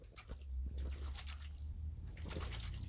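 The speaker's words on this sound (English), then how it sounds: "you can hear the water sloshing around in there" Water sloshing inside a sagging, poorly sloped drain waste pipe as it is shaken, a faint, low, liquid swishing and gurgling that rolls back and forth without pause.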